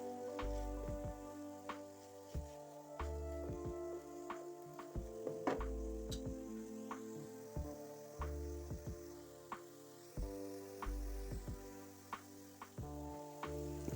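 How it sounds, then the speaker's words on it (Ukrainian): Onions frying in a pan as chicken liver pâté is made, a soft sizzle under repeated scraping and tapping from a utensil stirring them, quiet and close with no talking. "Обов'язково періодично помішуючи цибулю."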